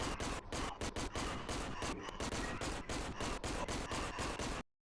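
Rapid bursts of gunfire in the horror shooter Cry of Fear, loud and close, firing in a fast irregular stream of shots that stops abruptly near the end.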